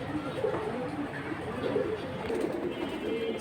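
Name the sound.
pigeons cooing, Kalabaga pigeon pair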